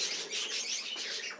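Budgerigars chirp in a quick, busy flurry of high twittering calls, close and moderately soft, with no speech.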